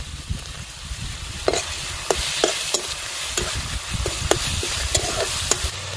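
Garlic and ginger paste fries in a pan, with a continuous sizzle broken by regular sharp spatula knocks and scrapes of stirring, close up and without talk.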